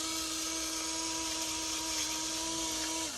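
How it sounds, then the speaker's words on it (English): An electric salt grinder whirs steadily as it grinds salt for a salsa verde, a continuous high motor whine that winds down at the end, close and unbroken. "that's that sound that you're hearing is the grinder grinding my salt up for me"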